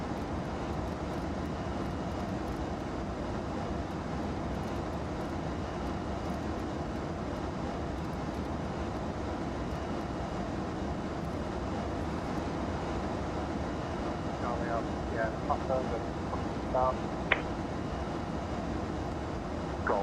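An ATR 72 turboprop airliner climbs in Microsoft Flight Simulator 2020, its engines giving a steady, dense drone throughout, with faint clicks and brief tonal blips late on.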